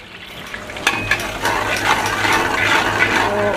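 Asafoetida and whole spices, including cumin, cardamom and cloves, sizzle in hot oil in a pan, a close, steady crackling hiss that swells after a couple of sharp pops.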